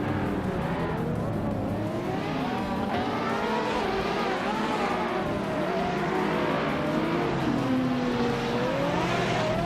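2019 Ferrari Monza SP1 in a video game race, a continuous engine roar with revs sweeping up and down through the clip, mixed with other cars on track at an even, moderate level.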